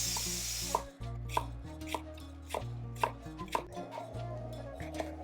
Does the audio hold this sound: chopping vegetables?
yes